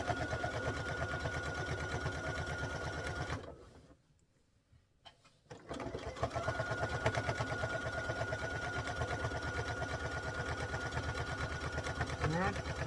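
A sewing machine stitching binding around the edge of a quilt, running in a fast steady close whir that stops briefly and then starts again. A voice speaks faintly under the machine.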